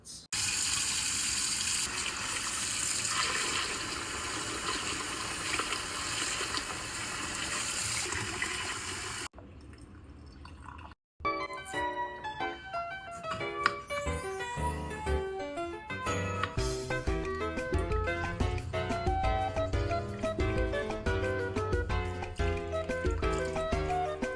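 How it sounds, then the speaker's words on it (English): A tap runs hard into a sink while meat is rinsed for Lao pho, a loud continuous gush. It breaks off briefly partway through, then returns with splashing and clattering as the meat is handled, close by with no talking. "I know I'm gonna be washing the meat, so let's go ahead and do that"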